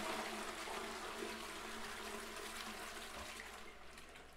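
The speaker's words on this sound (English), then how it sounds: "You guys know how much I love flushing toilets." A toilet flushing in the horror video game Strange Toilet, a continuous rushing, gurgling torrent of water that stays steady and slowly tapers, heard alone without talk.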